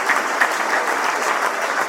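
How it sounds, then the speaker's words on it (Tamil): Brief, dense audience applause at a Tamil comedy debate stage show, a bright crackle of many hands clapping at once, close and loud throughout. "கைத்தட்டல் கொடுங்க"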